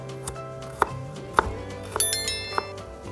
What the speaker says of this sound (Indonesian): bawang merahnya aku iris-iris supaya mudah dihalusinnya nanti